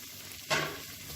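Sliced onion hits hot oil in a pan with a sudden close sizzle that eases into a quieter steady frying hiss, with no talking.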